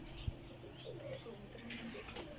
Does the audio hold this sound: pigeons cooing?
yes